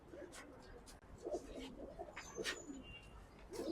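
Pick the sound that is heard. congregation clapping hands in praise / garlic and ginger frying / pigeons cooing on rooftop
pigeons cooing on rooftop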